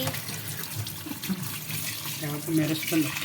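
Steady running water from a tap splashes into a sink throughout, with a voice speaking faintly underneath.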